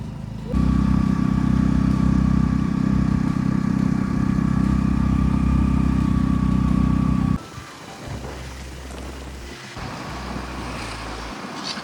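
A motorcycle engine labors loudly and steadily up a long, steep uphill road in Nepal, revving under strain, then drops off into quieter engine rumble and road noise.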